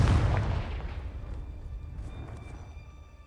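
The Confringo blasting spell in Hogwarts Legacy explodes with a heavy, booming impact at the start, then rumbles and decays over a few seconds into a fading low roar, with no talking over it.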